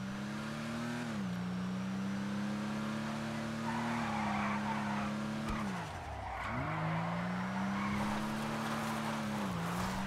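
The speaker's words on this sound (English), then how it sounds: "we're gonna drift with this car even more" A Nebula Turbo car drifting in GTA 5, a steady engine drone that dips and rises with the throttle while the tires squeal through the slides.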